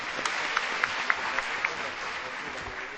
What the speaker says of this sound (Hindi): मैं चाहूंगा कि इस शानदार नाटक के लिए एक बार फिर तालियां।